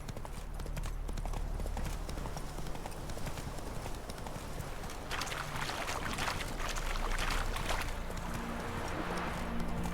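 Hooves of the horse Roach clip-clop steadily in The Witcher 3 video game, a quiet, even trotting rhythm under a soft ambient background that swells in the second half.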